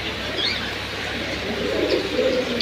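Silver pigeons coo softly in a loft, their low murmuring calls steady across a faint background hum, with a few faint chirps and no talking.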